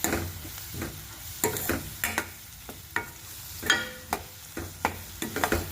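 Gram flour is stirred into a spice mix sizzling in a pan, with a soft continuous fry under intermittent sharp clinks and scrapes of the spoon against the pan.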